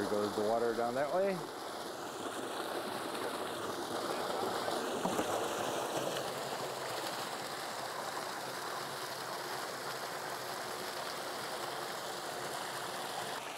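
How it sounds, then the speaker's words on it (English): Water runs steadily down an acequia irrigation ditch near Jemez, a continuous rushing flow that stays even from start to finish, with a brief low tone at the very beginning. "There goes the water down that way."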